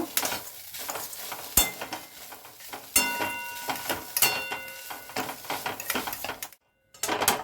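A fish filling mixed with boiled potato in a bowl for fish fingers, heard as repeated scraping and clinking of a utensil against the bowl in an uneven rhythm, close and without speech.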